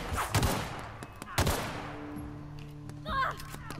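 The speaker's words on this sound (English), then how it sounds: "Gunshots." Gunfire in the sci-fi shooter game The Outer Worlds: a few sharp, loud shots spaced apart with decaying tails, followed by fainter game sounds.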